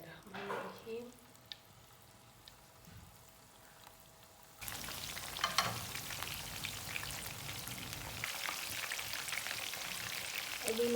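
Chicken frying in hot oil, an abrupt surge of dense crackling sizzle as the pieces go in after a quiet start, then a steady bubbling hiss that holds close and fairly loud.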